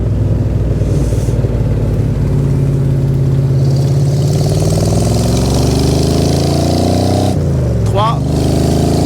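A Dax-built AC Cobra 427 replica with a four-speed manual gearbox drops back into second gear, its engine rumbling loud and close with shifting pitch as revs change, then a sharp rev blip.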